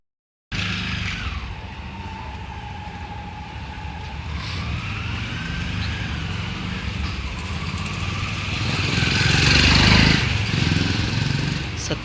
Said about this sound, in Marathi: सतत गाड्यांचा आवाज.